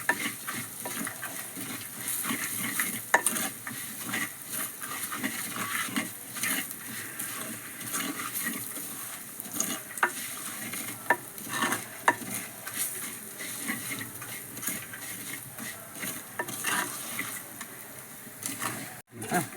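Crushed ginger fries in hot oil while being stirred for a rasam curry, a constant close sizzle broken by scraping spoon strokes against the pan.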